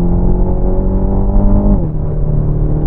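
A Renault Talisman 1.6 TCe with EDC7 automatic gearbox revs hard at full throttle from around 4000 rpm in third gear, a loud, droning engine note climbing steadily before a gear change drops the pitch briefly, heard from inside the cabin.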